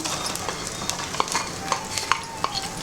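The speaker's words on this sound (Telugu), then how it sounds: "ఇప్పుడు ఇందులో మనం ఉల్లిపాయ ముక్కలు వేస్తున్నాం." Onion pieces fry in cow ghee with cloves, giving a steady close sizzle broken by a few sharp pops and stirring clicks.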